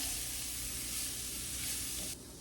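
Food sizzles steadily in a hot pan, a loud continuous hiss filling the clip until the heat drops slightly near the end.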